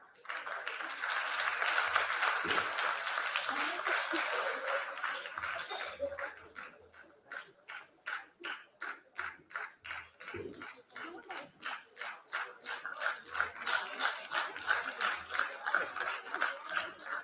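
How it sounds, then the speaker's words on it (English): An audience at the grand finale of the India Voice Fest 2022 singing event breaks into sustained applause that turns into loud, rhythmic clapping in unison, with a brief pause before the beat picks back up. "the claps have to continue"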